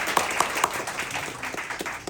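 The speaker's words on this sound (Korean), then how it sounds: "다시 한번 박수 한번" Audience clapping after an hour-long lecture at a company branch training session, a soft, steady patter of many hands from a seated group, fairly faint and continuous.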